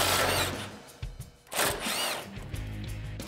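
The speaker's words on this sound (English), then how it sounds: "We're gonna try with the impact first." An impact wrench removes a 17 mm sway bar nut on a 2005-2020 Toyota Tacoma, sounding in two or three close, loud bursts of rapid hammering whir separated by brief pauses.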